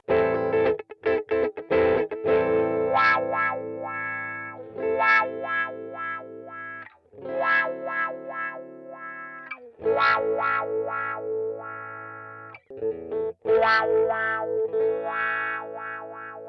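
Distorted electric guitar phrases through a Headrush wah effect set near the heel extreme, notes swelling and quacking between pauses, loud and up close with no talking.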